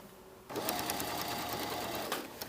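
A serger sewing machine runs steadily, stitching the seam allowances of a blouse where the sleeve is set in; the motor starts abruptly after a quiet moment and whirs continuously at close range with no one talking.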